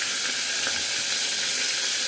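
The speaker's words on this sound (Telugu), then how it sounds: "టమాటాలు అయితే వేగనిద్దామండి" Tomatoes frying in a pan, a steady close sizzle and hiss that runs unbroken throughout with no voices.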